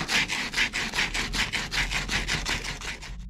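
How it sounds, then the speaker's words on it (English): Abrasive sanding of green, tarnished HVAC copper pipes: a steady back-and-forth scraping in an even rhythm of about six strokes per second, close and alone with no talk. "let's go ahead and sand these pipes down."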